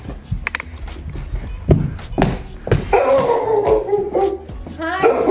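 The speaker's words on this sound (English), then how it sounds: "Your dog is so loud." A loud indoor house dog barking in sharp bursts, then breaking into a sustained howl, close to the listener, with some talk around it.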